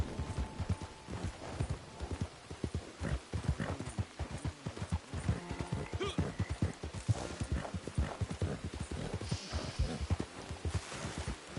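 Rapid, rhythmic hoofbeats of an Arabian horse trotting steadily and close up in Red Dead Redemption 2 Online, with no talk over them.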